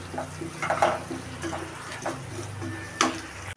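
Salt, turmeric and chilli powder stirred together in a bowl while making bombay chutney for ragi puris: a spoon scrapes and clinks against the bowl in uneven strokes, close and moderately loud.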